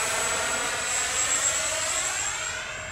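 Twin 70mm EDF XFly B-1B Lancer RC model jet flying overhead, a steady, loud ducted-fan roar with a high, sustained whine that holds throughout and rises and falls only slightly, with no talking.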